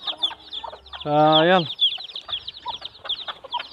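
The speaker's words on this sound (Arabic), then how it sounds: "ونرجع نحط للكتاكيت هذه الكيوت الحلوة" Newly hatched chicks and hybrid hens in a coop, with repeated close clucks, chirps and one longer loud hen call in the middle, while a voice briefly speaks over them.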